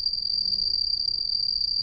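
Field crickets chirp in a steady, unbroken high trill that runs through the whole stretch with a faint low rumble beneath it, and no voices are heard.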